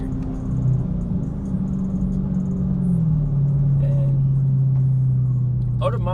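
A car with a modified exhaust accelerates, its engine rising into a steady, loud rumbling drone close by. There is no talking over it.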